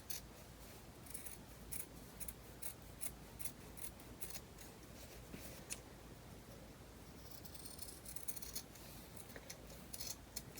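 Scissors trim excess fabric and stabilizer for an elastic closure bag, a quick run of soft, crisp snips up close and quiet, with no voices.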